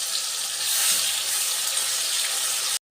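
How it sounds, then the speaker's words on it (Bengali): Ground spice paste hitting hot oil in a pan with nigella seeds, a steady loud hiss and sizzle that holds without a break for nearly three seconds and then cuts off abruptly. "এবার ওই মশলাটা যেটা বেটে রেখেছিলাম ওটা দিয়ে দেব।"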